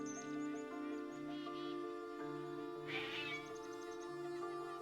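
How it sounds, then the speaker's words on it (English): A house cat meows loudly and repeatedly, insistent drawn-out calls close to the listener over a steady background hum, with one sharper, louder yowl partway through. "The cat is going crazy."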